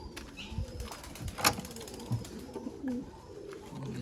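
Pigeons in Sri Lanka coo softly at close range, with a quick burst of wing flapping and scattered low throaty calls over a quiet background.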